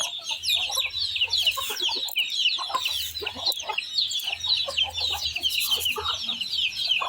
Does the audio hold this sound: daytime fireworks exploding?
no